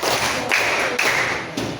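Three sharp hand claps, evenly spaced about half a second apart, in a classroom clapping game led by a teacher, over a steady background murmur.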